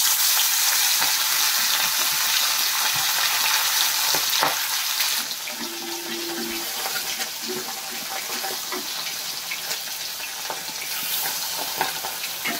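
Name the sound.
fish frying in hot oil in a kadai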